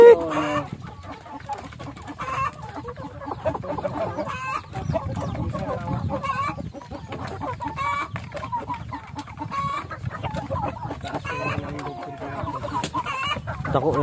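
Backyard pet hens cluck repeatedly at close range, their short calls scattered over a low rustling bed of farmyard noise, with a soft voice now and then in the background.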